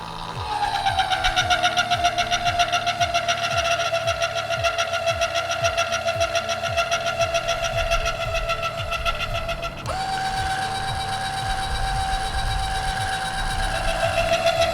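An electric trailer jack motor whines steadily during a test run, its pitch settling lower and then jumping as the load changes, with a rapid mechanical ticking underneath and no talk.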